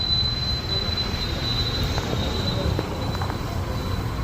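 A train rumbles low and steady nearby at Kozhikode railway station, with a thin high metallic squeal from the wheels running throughout.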